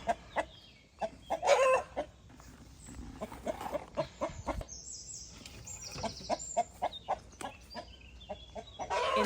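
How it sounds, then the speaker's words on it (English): Chickens clucking near a coop on a Portugal homestead, a close run of short repeated clucks and squawks with a few higher calls, steady throughout. "I'll wait for lovely Tadza to have laid her egg and I'll come and clean out the coop"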